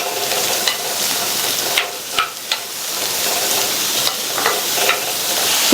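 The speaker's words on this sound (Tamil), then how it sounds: "இதுல கட் பண்ணி வச்ச 300 கிராம் புடலங்காயை சேர்த்துட்டு நல்லா ஹை ஃபிளேம்ல வச்சு 2 நிமிஷத்துக்கு எண்ணெயிலேயே நல்லா வதக்கி விட்டுக்கோங்க." Snake gourd pieces sautéed in hot oil over a high flame, with a steady sizzle throughout and a few sharp stirring clinks and scrapes of a spatula against the pan, close and fairly loud.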